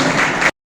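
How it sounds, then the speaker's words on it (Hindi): Crowd clapping welcomes the chief guest at a state-level fisheries cooperative society conference, a dense steady burst of applause that cuts off abruptly after half a second. "जोरदार ताली स्वागत"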